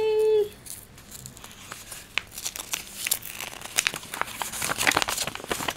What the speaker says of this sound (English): Let's see if I can peel this off carefully.